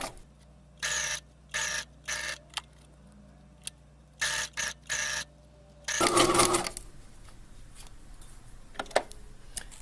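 A sewing machine stitches a tote bag strap under the presser foot in several short bursts of rapid whirring with quiet pauses between, then a longer, louder run followed by faint handling sounds.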